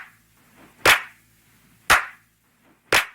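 Three sharp, bright claps from a sample-pack clap loop, spaced about a second apart, each with a short snappy decay, alone with faint quiet tones between hits.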